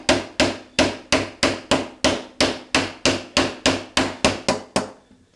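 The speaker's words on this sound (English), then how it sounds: "I'll just tap gently in here to start straightening it out" Stainless steel car trim being tapped gently with a hammer to straighten it, about fifteen evenly spaced metallic taps in a steady rhythm, close and clear with no talking.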